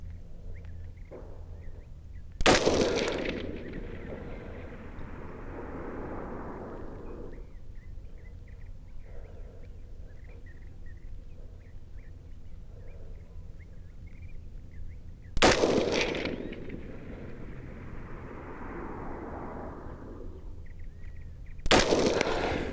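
Rifle shots fired at a target through an Arken Optics EP-8 1-8x28 LPVO, three sharp loud cracks heard here, spaced far apart, each trailing off into a long rolling outdoor echo.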